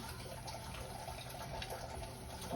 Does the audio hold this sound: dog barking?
no